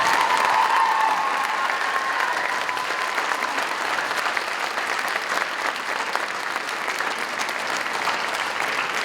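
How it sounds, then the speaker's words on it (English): An audience claps and cheers during an intermission honor ceremony, a dense, sustained ovation that stays loud and even from start to finish with faint whoops mixed in. "Let me hear the applause again."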